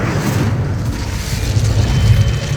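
Fiery spell blast cast in the video game Hogwarts Legacy, a loud, continuous rumbling whoosh with deep booming low end sustained throughout, no voices.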